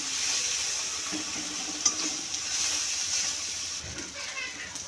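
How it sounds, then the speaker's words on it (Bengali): Cumin powder and meat masala spices for an Aila fish curry sautéing in a pan, a steady soft sizzle and frying hiss with faint stirring scrapes running throughout. "এই সবগুলো মশলাকে আমি ভালোভাবে কষিয়ে নেব।"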